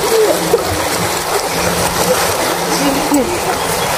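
Children splash and bathe in a village swimming pool, with continuous watery splashing and churning under people talking nearby.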